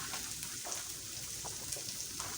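Noodles and cabbage fry in a hot pan with a steady, soft sizzle and crackle, a few small pops and stirring clatters breaking through the continuous hiss.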